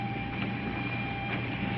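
Steady rumble of a train in motion heard from inside a railroad car, a continuous close, loud mechanical roar with no talk.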